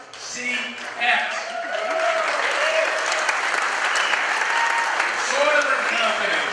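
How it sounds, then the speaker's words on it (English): Sustained applause from an audience at an engineering contractors' public officials night event, steady and full throughout, with voices faintly audible in the crowd beneath the clapping. "I think our corporate sponsors deserve louder applause."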